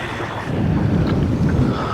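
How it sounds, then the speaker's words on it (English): Strong wind gusting over a river while a boat rides at anchor, a loud, rough buffeting roar pressing against the microphone, steady throughout with no talk. "this wind is, I think, pushing this anchor"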